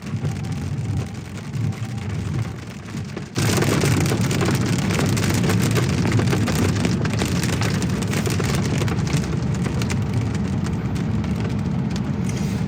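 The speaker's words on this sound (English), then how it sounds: "It's raining pretty hard." Heavy rain pours during a stop on an EV road trip in a Rivian R1S near a Buc-ee's. It is a dense, steady roar that jumps suddenly louder a few seconds in and stays close and constant, with no voices.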